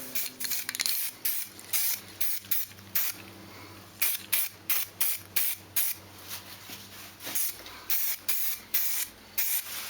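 Short repeated bursts of an aerosol spray can hiss out light primer coats onto prepped Nissan N13 engine parts, close and rhythmic, with brief gaps between passes.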